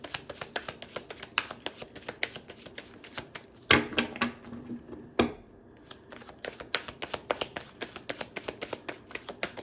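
Everyday Witch Tarot cards being shuffled, a rapid run of crisp papery riffles and taps with a couple of louder slaps and a brief pause, heard up close and fairly quiet.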